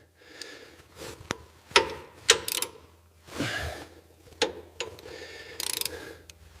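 Loosening the belt tension on a 1960s Mini Cooper S, close mechanical clicks, ratcheting and scraping metal knocks in short bursts with pauses, no speech.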